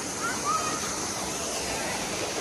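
Mohili waterfall in Karjat, India: a steady broad rush of falling water fills the scene as an even, unbroken roar from nearby.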